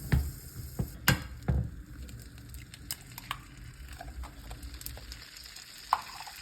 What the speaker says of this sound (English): So we want to get this 1 tablespoon of butter cooking.